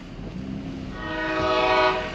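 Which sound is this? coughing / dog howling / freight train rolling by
freight train rolling by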